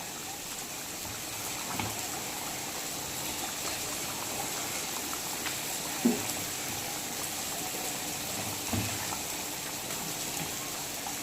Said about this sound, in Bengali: সেদ্ধ করে নেবো, 10 মিনিট ঢেকে রাখবো বন্ধুরা